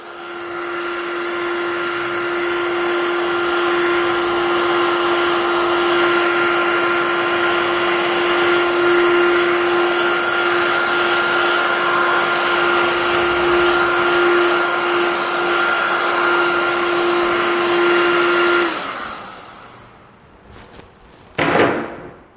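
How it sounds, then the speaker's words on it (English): An electric heat gun blows steadily while semi-curing a screen print on a t-shirt, a loud constant whine with an airy roar that runs for most of the clip, then cuts off, followed by a couple of soft knocks. "So I will heat gun it, semi cure it."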